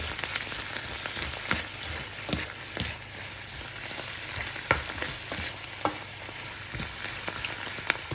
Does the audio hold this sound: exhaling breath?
no